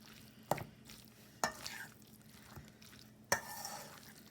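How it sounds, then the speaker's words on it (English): A spoon gently stirs a mayonnaise mixture into chicken salad in a bowl, giving soft, quiet scraping and squelching with a few sharper clinks against the bowl, and no voices. "we're just going to kind of gently stir that in until everything in our bowl is coated with our mayonnaise mixture"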